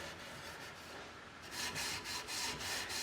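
A wooden chair's glossy finish being rubbed by hand, a close, loud, continuous scrubbing rasp that grows stronger in rhythmic strokes partway through.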